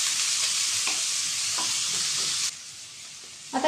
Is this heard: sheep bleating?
no